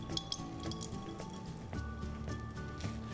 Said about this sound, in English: dump it onto a paper towel, then just gently squeeze out the excess water.